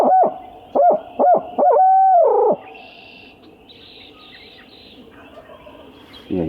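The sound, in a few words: imitated owl hoot call for locating turkeys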